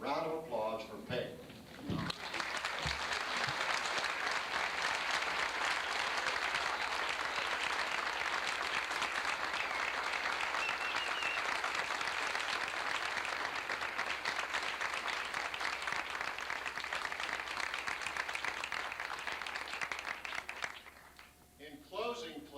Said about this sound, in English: give a good round of applause for Peg